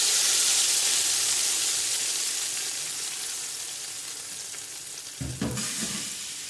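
Tempering (baghar) for kadhi pakora sizzles in hot oil, a loud, steady frying hiss that slowly fades. Near the end a short, louder burst of spattering and bubbling breaks in.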